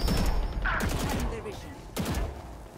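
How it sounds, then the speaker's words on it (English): A few sharp gunshots from the video game Valorant, one burst near the start and another near the end, moderately loud with a voice talking between them. "Oh, that's a gun."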